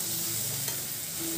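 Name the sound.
masala frying and being stirred for khichdi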